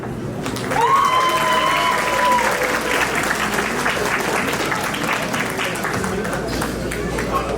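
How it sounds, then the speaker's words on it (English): A wedding reception crowd applauds after the speeches: sustained, dense clapping from many hands that swells and holds steady, with scattered voices and cheers mixed in. "one round of applause for all those speeches"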